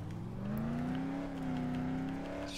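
A car engine in the video game Dead Island Definitive drones steadily and close, with a slowly rising and falling pitch as the vehicle keeps driving.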